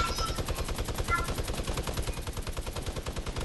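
A video game minigun firing in a long, rapid, unbroken stream of shots, loud and close, with a faint voice underneath.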